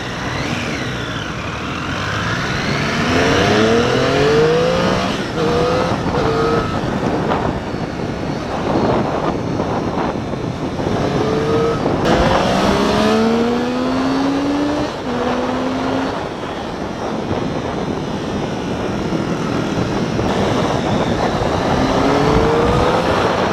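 A Triumph Street Triple motorcycle accelerates repeatedly, its engine note rising through the gears in loud, close sweeps, broken by brief shifts and steady road and wind noise.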